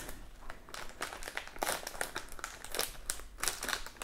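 Plastic Lego packages being torn open and their pieces emptied out, giving continuous close crinkling and crackling of thin plastic with scattered brittle rattles, fairly loud and steady throughout with no talking.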